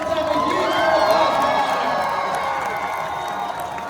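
A large crowd at a comic convention panel cheers and whoops loudly over continuous applause, sustained throughout.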